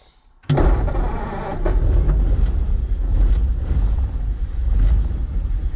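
A barn-find 1947 Ford coupe's flathead V8, abandoned for 15 years, catches with a sudden start and settles into a loud, rumbling idle close by, its steady throb carrying a slight miss.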